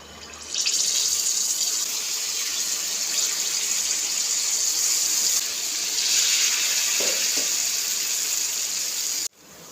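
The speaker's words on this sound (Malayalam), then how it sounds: "എണ്ണ ചൂടായി വന്നിട്ടുണ്ട് ഇനി നമുക്ക് മാവ് കോരി ഒഴിക്കാം" Unniyappam batter fries in hot oil in an appam pan, a loud, steady close sizzle and hiss that starts abruptly, holds for about nine seconds with a slight swell midway, then cuts off.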